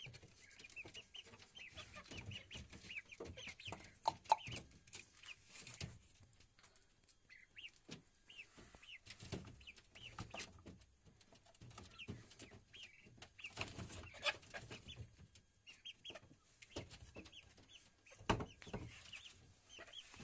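Chickens and chicks cluck and chirp in irregular bursts throughout, a busy coop chorus with soft peeping calls mixed among louder clucks, close by.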